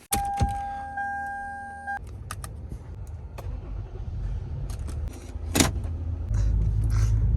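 Keys jangle briefly as an Infiniti G35 is unlocked in a garage, with a steady electronic chime and a click, then a low vehicle rumble that builds and stays loud.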